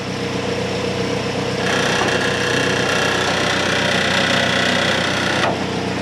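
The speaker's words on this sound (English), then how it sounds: "Heat shield rattling, I'll have to fix that." A 2011 Chevy Malibu idles with a loose exhaust heat shield buzzing and rattling against the steady engine hum for a few seconds, then easing back, close to the car, with no talk.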